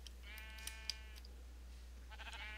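A Minecraft sheep bleats several times in quick succession, faint and thin over a steady low hum, with no talk.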